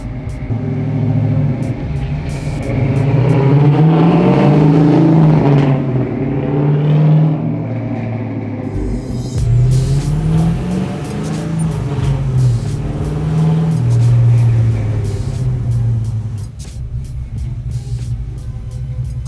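A Chevy Apache restomod pickup truck's engine rumbles loudly and revs up and down in repeated swells while the truck makes light passes, a steady deep drone with no talking.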